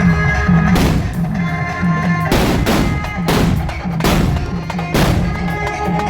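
Firecrackers go off at a village Chithirai temple festival: about five loud, sharp blasts at roughly even intervals, each with a booming tail, close by and alone over a low background.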